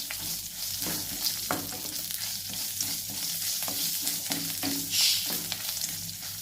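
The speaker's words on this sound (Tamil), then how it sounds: "அதையும் நல்லா வதக்கிக்குவோம்." Cloves, dried red chillies, ginger and garlic sautéing in hot oil for a country chicken curry, with a steady close sizzle and repeated scrapes of a stirring spoon against the pan.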